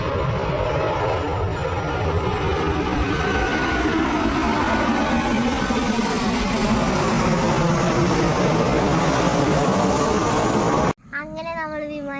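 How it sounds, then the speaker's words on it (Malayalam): An airplane passes overhead on a village evening, a broad, steady roaring drone that fills about eleven seconds before a voice briefly speaks at the end. "ഇത് അങ്ങോട്ട് പോകുന്നുണ്ട് വിമാനം"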